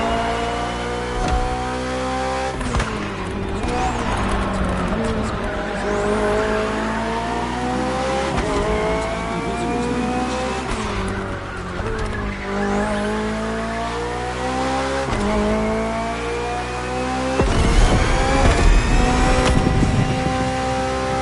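A BMW hybrid V8 race car in a racing video game, its engine roaring loudly and continuously through repeated rising revs and gear shifts, with tire squeals and a surge in loudness near the end.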